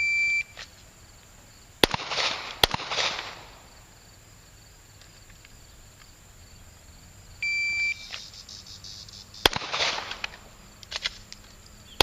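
Pistol shots fired in controlled pairs from the holster on a Marine qualification range, two sharp loud reports close together near the start and another pair later, with timer beeps between and quiet gaps.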